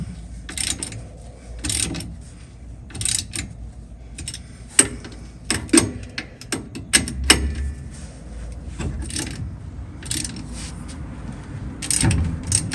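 Bolts come out of the rear suspension of a 1965 Chevrolet Nova as a ratchet clicks in irregular bursts. Sharp metallic ticks and clanks sit close by, separated by quieter pauses.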